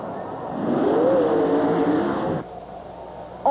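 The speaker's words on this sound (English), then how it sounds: "Full throttle all the way to the finish line, then hard on the brakes as he puts the machine sideways" A supercharged Chevrolet-powered monster truck at a 1991 Roanoke USHRA event pulls away at full throttle, its engine droning loud and steady with a rising whine for a couple of seconds before the sound drops off abruptly.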